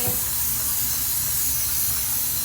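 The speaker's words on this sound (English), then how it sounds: "So I'm going to go ahead and give it a good spray." A continuous hissing spray of cleaner from a spray bottle in a bathroom, steady and close, filling the whole stretch without pause.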